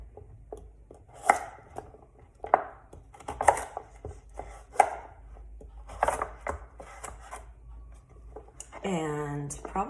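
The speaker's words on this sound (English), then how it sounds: "Carrots, I like to get a nice small chop on these guys too." A knife chopping carrots into a small chop on a board, with sharp, fairly regular thuds spaced about a second apart. Someone talks over the chopping throughout, and a brief tonal sound appears near the end.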